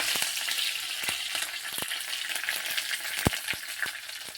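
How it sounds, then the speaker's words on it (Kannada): Fresh green curry leaves crackle and spit in hot oil while tempering, a continuous sizzle punctuated by scattered sharp pops, close by with no talking. "ಹಸಿರದ ರೀ ಬಿಟ್ಟು ಹಾಕಿನಿ ಅದಕ್ಕೆ ಚಟಪಟ ಸೆಳೆಯಕತ್ತೈತಿ ನೋಡಿ"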